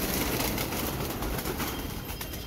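Pigeons coo steadily in a loft, several birds overlapping in a continuous low murmur with occasional wing flaps, close and fairly loud, with no talking.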